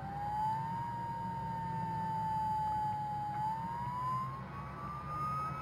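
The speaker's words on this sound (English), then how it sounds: "So the gas turbine starter spooling up" In Microsoft Flight Simulator, the gas turbine starter of a T-45 Goshawk jet trainer spools up with a steady high whine that slowly climbs in pitch over a low rumbling hum.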